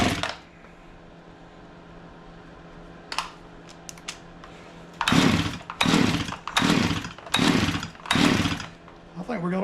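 A Stihl MS311 chainsaw with a carburetor problem and a fallen-off muffler is pulled and revved roughly in five uneven, surging bursts after quieter clicks and handling noises, close and loud.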